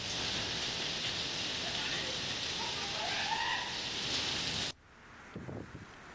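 Heavy rain with hail in the Jodhpur area of Ahmedabad, a loud, dense steady roar of downpour that cuts off abruptly near the end, leaving a quieter patter with a few faint bumps.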